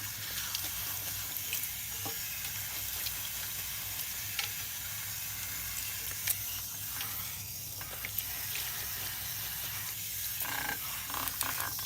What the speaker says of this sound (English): So we're making sure that we're thoroughly rinsing her.